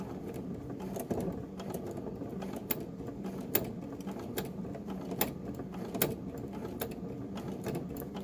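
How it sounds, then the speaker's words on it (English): Sewing machine running on its highest setting while basting the side seam of pants and stitching over pins, a steady mechanical whir with sharp clicks at irregular intervals, close and alone. "baste the side on the highest setting again."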